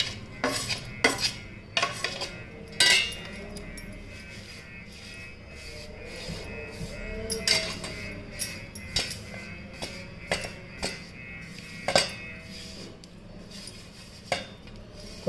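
A spoon stirs and scrapes a rice flour and gram flour batter, with water, a pinch of soda and coriander leaves, in a bowl for potato twisters, giving quiet rubbing broken by repeated sharp clinks against the rim.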